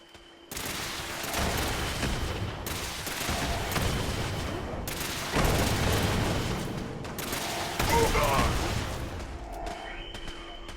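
Rocket fire in the Fallout 76 video game pounds enemies in a sustained, loud barrage of booming blasts and rattling gunfire lasting about ten seconds, with brief dips between volleys.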